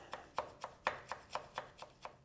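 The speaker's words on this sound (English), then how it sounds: "Now we just have to chop up the parsley." A kitchen knife chops fresh parsley on a board in a steady run of about nine crisp, evenly spaced strikes, faint and close, with no voices.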